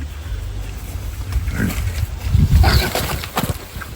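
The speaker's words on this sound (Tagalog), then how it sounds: "Mga inahing baboy." Sows on a farm pen grunt and snort in a cluster of close, rough bursts, building louder toward the middle over low background noise.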